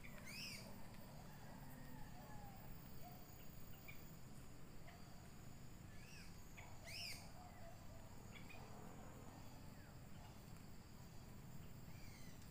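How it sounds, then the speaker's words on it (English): Birds chirp and call outdoors at a farm setting, several short bright calls standing out around the middle of the stretch over a steady noisy background, with distant faint insect-like hum. "Oh, I heard a bird singing."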